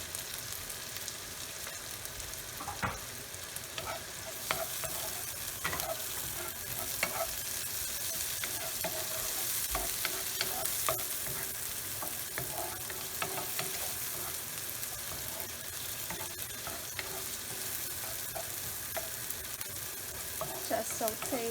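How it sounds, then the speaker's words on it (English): Shallots and tomatoes sauté in a hot pan for a dish of bitter melon with shrimp, giving a steady soft sizzle with occasional scrapes and clinks of a utensil stirring, fairly quiet and continuous. "Just saute the shallots until it becomes translucent"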